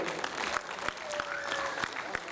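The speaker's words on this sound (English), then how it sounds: "So a big round of applause for yourself also." Audience applause at a preschool annual day event, a steady wash of many hands clapping with a couple of whistles or cheers rising above it, while a voice carries faintly underneath.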